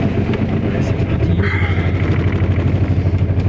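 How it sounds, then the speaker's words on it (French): An Aixam microcar's small engine idles steadily at close range after preheating on a cold morning, a low rhythmic chugging under a voice. "On entend tout bien le moteur"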